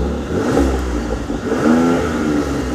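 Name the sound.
convertible car engine revving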